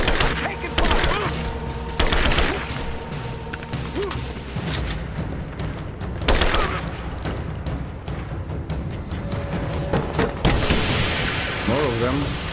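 Gunfire during a firefight in Rise of the Tomb Raider, with heavy bursts and scattered booms over a steady, rain-like rumble of battle noise, while voices shout in the background.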